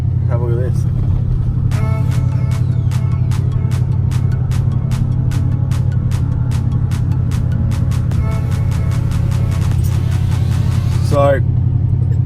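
A lowered Holden Monaro V2 with a 5.7-litre LS1 V8, six-speed manual and fatter wheels cruises through Brisbane, its engine a steady low drone throughout, with a rhythmic ticking running through the middle.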